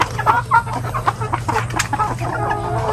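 Heritage and native chickens in the Philippines clucking close by, several short overlapping clucks and calls over a steady low background hum, with no talking.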